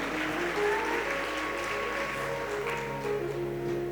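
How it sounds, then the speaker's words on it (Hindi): An audience at a Hindu religious discourse breaks into steady, continuous applause, a dense wash of many hands clapping at once that holds at an even level for a few seconds. "आपने जो ताली बजाई है वो गलत तरीके से, कुछ गलत सोच के बजाई है।"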